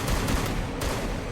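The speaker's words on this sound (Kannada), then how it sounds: "UMP scope hockey ಹೊಡೆಯೋಣ" Rapid automatic fire from a UMP gun in the video game Free Fire, a dense continuous burst of loud shots filling the whole moment without pause.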